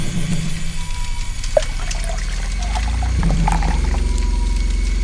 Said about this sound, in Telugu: పక్కనే ఉన్న జలపాతం వద్దకు వెళ్ళి అక్కడ నీళ్లను తీసుకుని బావిని నీళ్లతో నింపారు